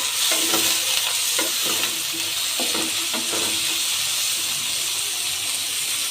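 Potatoes frying and being stirred in a pan, with a loud, continuous hiss of hot oil and a run of close spatula scrapes in the first half before the sizzle carries on alone.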